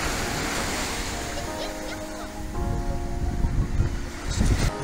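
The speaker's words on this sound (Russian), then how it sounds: "Сегодня волна у берега есть, а так вдали небольшая." Sea waves break on the beach at Zelenogradsk on the Baltic coast, a continuous close surf wash swelling louder toward the end, with wind and faint tonal background sounds behind.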